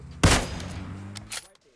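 A loud close burst of rapid gunfire in the mobile shooter PUBG Mobile, one heavy volley followed by a quieter second shot and a brief ringing tail.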